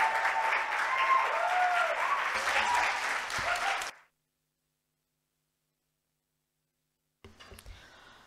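Conference audience applauding presenters at an HIV and adolescence session, a dense, full round of clapping that cuts off abruptly, followed by silence and then a short burst of sound.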